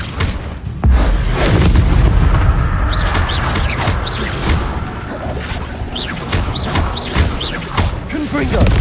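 Confringo fire-blast spell explosions in a Harry Potter video game: loud, close, dense booming blasts with crashing impacts and whooshes rolling almost continuously, with sharp chirping effects over the rumble.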